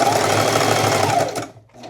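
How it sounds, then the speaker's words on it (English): A sewing machine stitching fabric pieces of a patchwork wizard hoodie runs steadily and loudly up close, its rapid continuous whir stopping abruptly near the end. "So I'm gonna start sewing like right here."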